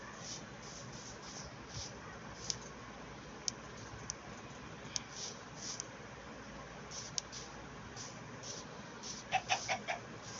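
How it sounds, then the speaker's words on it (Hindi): A hen clucks faintly from a distance in a quiet outdoor setting, soft sparse clucks and clicks scattered over low background noise, ending in a short burst of slightly louder calls. "भाई यह मुर्गी भी अंडे देती"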